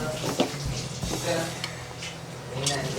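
Kerala-style mackerel curry simmering in a pan as curry leaves are dropped in, giving a soft bubbling sizzle with light stirring and utensil clinks, while someone speaks over it.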